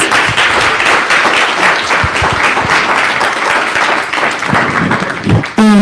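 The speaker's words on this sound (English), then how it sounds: "Now, can you give them a round of applause," Audience applause at an evening community event on Black history and health, dense steady clapping filling the room for several seconds and ending abruptly.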